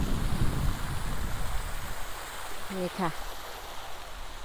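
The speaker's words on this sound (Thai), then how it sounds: "ได้ยินเสียงน้ำตกแล้วก็เพลินดีจ้ะ" Waterfall water pours steadily outdoors in the French countryside near a village church. The rush is a constant broadband wash, and someone briefly speaks over it near the end.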